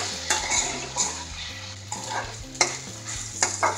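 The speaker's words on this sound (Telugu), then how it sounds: "జింజర్ గార్లిక్ పేస్ట్, కొద్దిగా కరివేపాకు వేసి కొంచెం మిక్స్" Ginger garlic paste and curry leaves stirred into frying onions in a pan, with repeated sharp scrapes and clinks of a spoon against the pan over a soft, steady sizzle.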